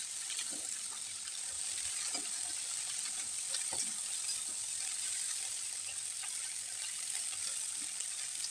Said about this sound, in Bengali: প্রথমে পুঁই বিটুলিটা দিয়ে কিছু সময় ভেজে নেব।